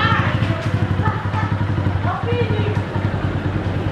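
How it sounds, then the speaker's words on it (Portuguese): A motorcycle engine idles close by with a steady, chugging pulse throughout, while voices talk over it. "Agora vou desligar aqui a moto."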